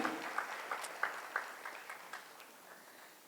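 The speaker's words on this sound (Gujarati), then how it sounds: "આપણે સૌ જબરજસ્ત તાળીઓથી અહીં અમીષાબેનને વધાવી લઈએ" Light, scattered clapping from a small audience at a business budget review gathering in a Dadar hall, with sharp individual claps fading gradually over a few seconds.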